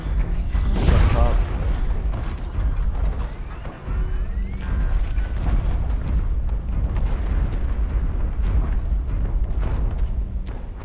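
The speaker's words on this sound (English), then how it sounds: "Artillery strike" Artillery strike explosions in MechWarrior Online, a heavy booming blast near the start followed by rumbling mechanical noise and further dull impacts under a steady low drone.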